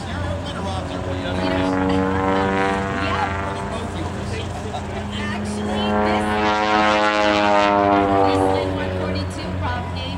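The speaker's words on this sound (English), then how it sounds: "So, is this your airplane or Rob's airplane?" A propeller airplane at a warbird air show drones loudly and steadily nearby, swelling louder toward the end, while people talk over it.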